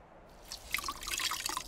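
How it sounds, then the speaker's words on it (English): Water drips and trickles from a soaked shirt into a trough in the game Lost Chronicles of Zerzura, a quiet, close patter of irregular drops with no voices. "The shirt is dripping."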